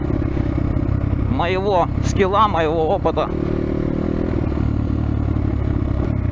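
A 2021 Kovi Lite motorcycle with a 300cc big bore engine runs with a steady, close, low throb, while someone talks over it for a few seconds before the engine carries on alone.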